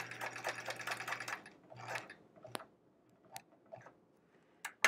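A sewing machine stitches a quilt block in two quiet bursts, a longer run and then a short one, followed by scattered soft clicks and taps.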